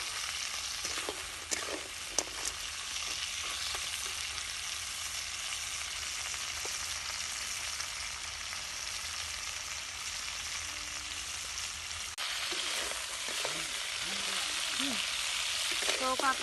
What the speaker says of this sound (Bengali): তো কাঁকড়াগুলো ভাজা হয়ে গেছে